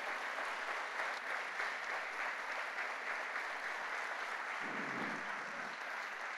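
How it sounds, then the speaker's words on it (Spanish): Congregation in a church applauding Jesus Christ, a continuous wash of clapping from a crowd, fairly distant and steady, with a brief low murmur partway through. "Dale fuerte ese aplauso a Jesucristo"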